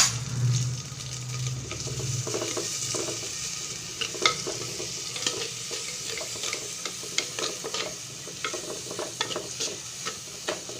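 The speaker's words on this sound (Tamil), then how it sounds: "சுண்டைக்காயை போட்டு நல்லா வணக்கணும்." Turkey berries frying with garlic and shallots in a pan for kara kuzhambu, a steady close sizzle broken by frequent scraping stirs of a spoon against the metal, no voices.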